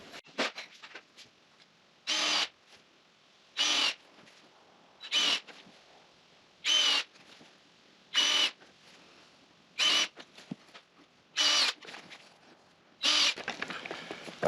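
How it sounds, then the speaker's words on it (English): A power drill bores pilot holes for GRK screws while a partition wall is assembled, giving nine evenly spaced loud bursts of about half a second each, with quiet handling noise in the gaps. "I'll just go along and drill for the GRKs first"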